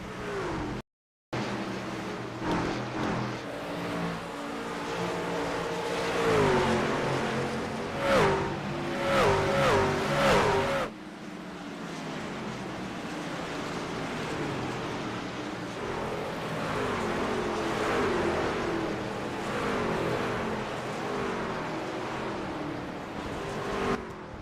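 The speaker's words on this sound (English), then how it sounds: "listen to the sounds of these trucks" Racing trucks lap the Phoenix track in the iRacing video game, their engines droning steadily. Revs rise and fall as the trucks surge past, loud and continuous, with no talk over them.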